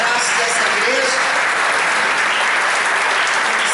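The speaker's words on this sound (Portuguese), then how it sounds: "receba esses aplausos como um forte abraço dessa igreja" A church congregation claps in steady, dense applause, loud and close, welcoming first-time visitors; the clapping fills the short stretch without pause.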